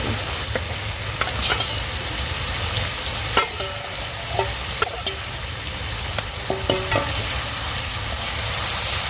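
Fish frying in hot spices in a pan, with a steady loud sizzle throughout and occasional scraping clinks as it is stirred and turned.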